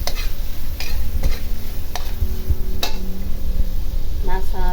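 Yumein Chinese noodle stir-fry mix being stirred in a pan over very low heat, close and steady scraping with a soft sizzle underneath and occasional utensil clicks against the pan.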